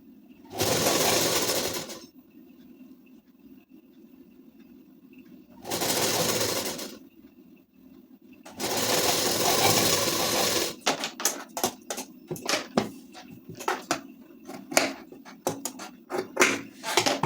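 Sewing machine stitching the folded sleeve hem of a ladies suit, running in three sustained bursts separated by pauses, then breaking into rapid short stop-start stitching runs, close and steady without talk.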